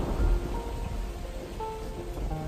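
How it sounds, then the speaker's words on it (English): Steady rain pours against a surface while low thunder rumbles underneath, a dense continuous storm wash with no voices. "as rain lashed against the building and thunder shook its foundations"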